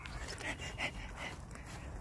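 A dog pants quickly and steadily after running outside, soft rapid breaths repeating close by at low volume, with faint background noise and no clear talking.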